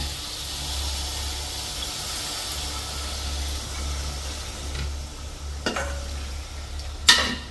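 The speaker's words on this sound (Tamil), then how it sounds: "நல்ல முழு முழண்டு சூப்பரான பெரிய இறால் நல்லா வதங்கிட்டுது" Large prawns sauté in a pan with a moderate, even hiss over a low hum, broken near the end by a couple of sharp utensil clatters.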